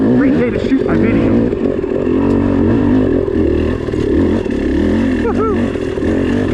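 Dirt bike engine running steadily on a shaded forest trail at Hamilton Buttes in Gifford Pinchot Forest, a loud continuous drone with small rises in revs, a brief whoop from the rider near the end.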